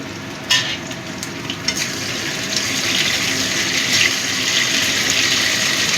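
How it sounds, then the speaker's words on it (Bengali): Tomatoes go into a pan of frying potatoes and cauliflower, bringing a steady, close sizzle with a brief sharper burst near the start and continuous crackling frying noise throughout, with no talking. "এবার দিয়ে দিচ্ছি টমেটো।"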